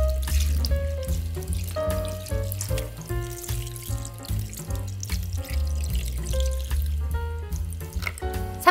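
Pickling marinade pours steadily over wild garlic leaves in a container for jangajji, a continuous splashing, gurgling stream with tonal ringing mixed in, close and fairly loud, with no talking.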